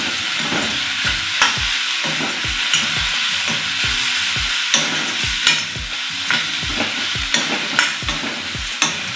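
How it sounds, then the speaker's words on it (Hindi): Soybean chunks with tomato and capsicum are stirred in a sizzling pan, a steady frying hiss under repeated spoon scrapes and soft knocks, close by and with no talking. "सोयाबीन इसमें डाल देते हैं और मिक्स कर देते हैं।"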